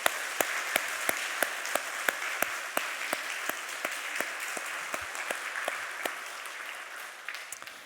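A church congregation at a Sunday worship service claps together, with a steady wash of hands and sharp regular accents in a firm rhythm that softens near the end.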